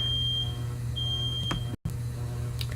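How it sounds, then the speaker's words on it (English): A smoke alarm set off while pizzas are cooking, sounding as a high-pitched electronic tone in intermittent beeps over a steady low kitchen hum, close and fairly loud. "my smoke alarm just went off because we're cooking pizzas"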